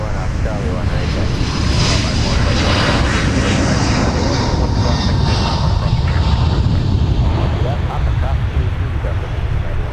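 An airliner takes off from MSP airport, giving a continuous, powerful engine roar heard from a distance, with talking over it.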